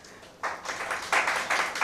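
An event audience applauds themselves, clapping swelling up after a quiet moment into a full round that builds and holds moderately loud in an indoor hall.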